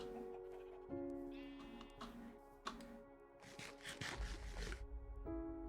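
Sheep in Minecraft bleat faintly amid game sounds, with a few wavering bleats rising over a low background and light clicking.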